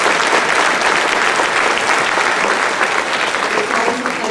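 An audience at a band concert in a theater claps loudly and steadily, a dense, sustained wave of applause that fills the whole stretch without a break.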